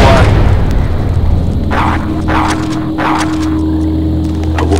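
A demolition charge goes off in Star Wars Republic Commando with a deep rumbling boom at the start. The low roar dies away slowly, and a few sharp blasts and crackles follow over a steady hum.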